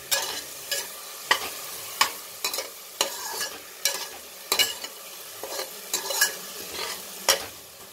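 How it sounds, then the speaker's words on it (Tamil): Onions sautéing in a pan for egg pasta, a soft steady sizzle broken by regular sharp scrapes of a stirring spoon, close and fairly quiet. "இந்த ஆனியன் வதங்கட்டும்."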